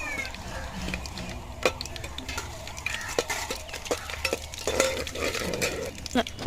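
Spices fry softly in oil in a pan while a utensil stirs and scrapes, with frequent clinks and taps of metal over a faint, low sizzle.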